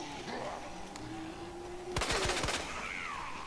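A short burst of rapid gunfire in Resident Evil 2 Remake, with several close, sharp cracks clustered near the middle over the game's ambient music.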